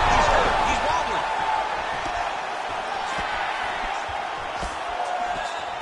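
An arena crowd in the UFC 5 video game roars and swells during a fight, a dense, steady wash of cheering with brief surges.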